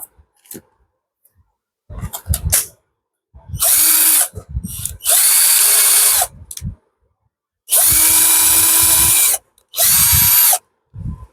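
A 12V cordless battery drill runs in several short, loud bursts of high-pitched motor whine, separated by clicks, handling noise and brief silences.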